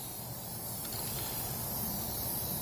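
A continuous hiss of spray paint from an aerosol can, steady and close, with no talking.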